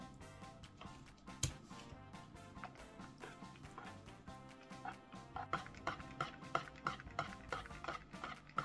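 Thin crepe batter being stirred briskly in a bowl, with quick rhythmic scraping and tapping strokes over steady background music.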